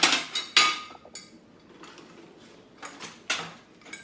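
A serving dish taken out for plating in a home kitchen: several sharp ceramic clinks and knocks, close and fairly loud, spaced irregularly with quiet handling sounds between.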